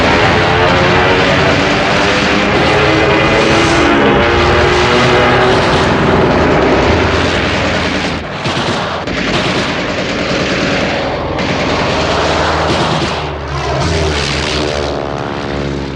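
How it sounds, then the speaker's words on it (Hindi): A bomber aircraft roars past during a wartime raid over a military airfield in Berlin, loud propeller engines droning continuously with a rising and falling sweep as it passes close overhead. "तभी बम बरसाता विमान गुजरा।"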